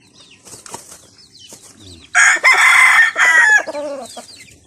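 A gamecock crows loudly and close by, its long call mixed with brief wing flapping, after softer clucking and rustling.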